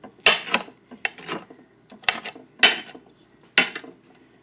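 Kitchen knife rough-chopping mushrooms on a board, about six crisp, irregular chops with short pauses between them, close and fairly loud, no voices.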